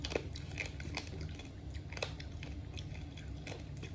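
Crispy lechon, a whole roast pig reheated from frozen, crunches quietly as it is bitten and chewed, giving a run of irregular sharp crackles over a steady low background hum.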